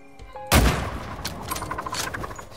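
A single loud rifle shot fired while hunting in The Red Lantern, a dog-sled roguelike game, cracks out after a quiet start and then rolls off into a decaying echo with some faint clatter and ambience.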